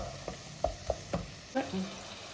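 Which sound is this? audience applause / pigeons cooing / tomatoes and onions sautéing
tomatoes and onions sautéing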